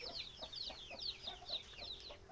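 A group of chickens clucks and peeps in quick overlapping calls close by, steady and fairly faint, with a low hum underneath.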